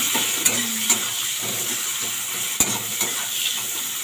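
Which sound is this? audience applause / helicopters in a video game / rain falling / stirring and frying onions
stirring and frying onions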